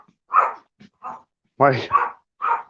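A dog barks in several short, mid-pitched bursts, some loud and close, with brief gaps between them. A voice breaks in partway through.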